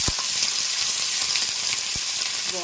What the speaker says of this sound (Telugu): ఇప్పుడు ఇవి కూడా నూనెలో మగ్గనిద్దాము.